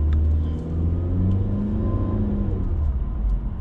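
A 2018 Honda Civic engine humming and rumbling steadily from inside the car while driving, a low even drone with faint whir and no talking.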